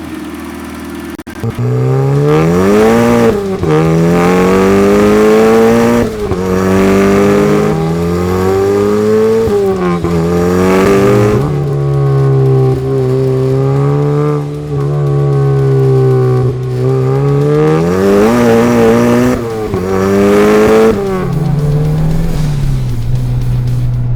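A Mazda Miata sports car drives and accelerates hard, its engine climbing through repeated revving pulls with gear changes in between, loud and close, with no talking.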